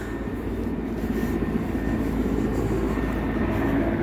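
A helicopter drones steadily overhead, its low, continuous rumble filling the whole stretch without letting up.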